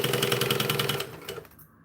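A sewing machine stitching a seam with olive-coloured thread, a rapid steady mechanical chatter that runs for about a second before slowing and stopping, heard up close with no talking.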